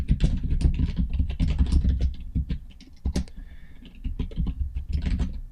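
Close, fast keyboard typing as code is entered on a computer, a busy patter of key clicks with a low thumping undertone and a short lull midway.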